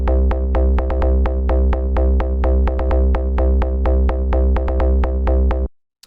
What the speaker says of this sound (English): The first sound we have here is the bass